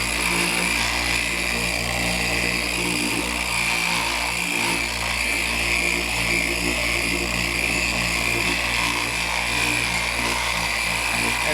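A power buffer drones steadily on a Ducati motorcycle fairing, a loud continuous whine with a low hum underneath, running unbroken throughout at close range.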